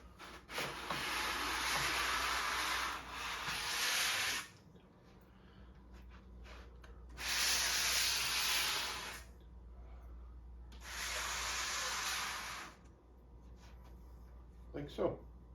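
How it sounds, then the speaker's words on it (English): A scraper pulled across wet paint on paper in three long strokes, each a close, soft hissing rasp lasting a few seconds, separated by quieter pauses. "I'm going to take my scraper and I'm going to pull from one end"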